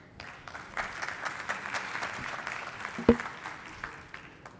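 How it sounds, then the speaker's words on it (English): Conference audience applauding as a speaker takes the stage at a startup and smart-city innovation event, a modest round of scattered clapping heard from the room at moderate distance, with one sharper knock partway through. "Ivan, if you're ready, take the stage. Big applause for Ivan."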